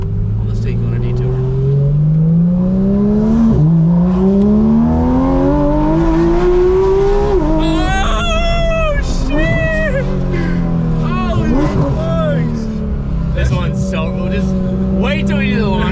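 Porsche GT3 RS engine revving and accelerating hard from close range: a loud rising snarl with gear changes, under excited speech from people in the car.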